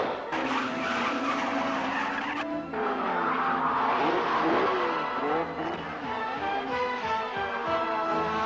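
Formula Atlantic race cars from the 1975 series racing on a track, with high engine whines rising and falling as they pass, shifting pitches and tire squeal, fairly loud throughout.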